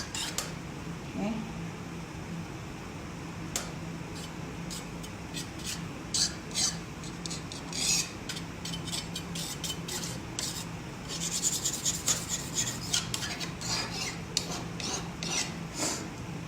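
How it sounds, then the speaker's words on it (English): Paint being scraped off a stenciled, boho-style painted piece down to an underlying purple layer: repeated short, dry scraping strokes in uneven bursts, busier and louder toward the end, against a faint steady hum. "So I just scraped the paint off down to the purple right here."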